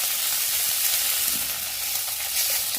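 Mango stones sizzling steadily in hot oil with a little water added, a dense, even hiss of frying that stays close and constant throughout.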